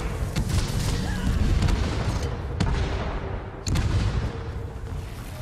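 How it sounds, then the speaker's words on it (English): Heavy booming blasts go off in a rapid volley, deep rumbling impacts overlapping in a steady barrage of cannon fire in a Guild Wars 2 PvP match. "Red team, ring the bell. Fire all cannons."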